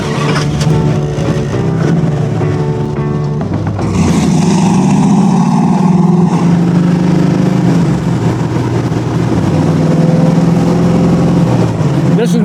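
A 1969 Chevy Camaro with a 383 stroker engine and single four-barrel carburetor idles loudly, then revs up sharply and holds a heavy, rumbling drone close by.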